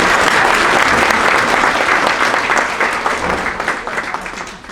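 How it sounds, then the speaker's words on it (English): Loud, dense applause fills the room at a Toastmasters district conference, a large audience clapping steadily before the sound gradually fades toward the end. "So give yourselves a round of applause."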